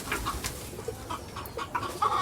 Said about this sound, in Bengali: আর একটা মুরগি অনেকগুলো মুরগি আমি আর পালি